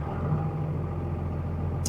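An engine idles rough and very low, near stalling, a close steady rumble with an uneven low pulse and no talking.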